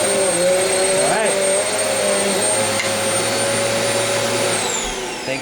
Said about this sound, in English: I'm going to finish vacuuming my carpet with my new vacuum cleaner.